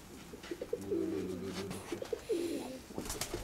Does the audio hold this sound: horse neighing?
no